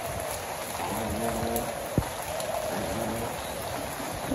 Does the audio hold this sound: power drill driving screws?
no